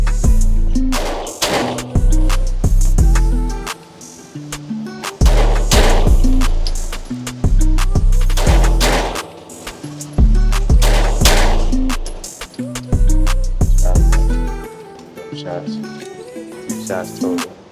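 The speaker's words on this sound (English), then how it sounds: "It's just me trying to press out and get on target quick and get 2 rounds off." Glock pistol shots in a rapid shooting drill, sharp loud reports fired in quick pairs and bursts with short pauses between strings, close up, with no talking.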